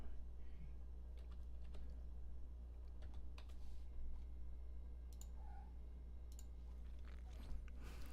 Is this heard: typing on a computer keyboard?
yes